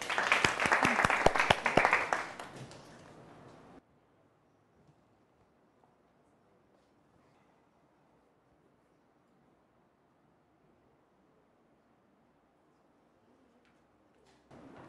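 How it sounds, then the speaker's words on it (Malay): Students in a Form 4 chemistry class give a short burst of clapping for a classmate, close and lively for about three seconds before fading into near silence. "Beri tepukan kepada Hadi"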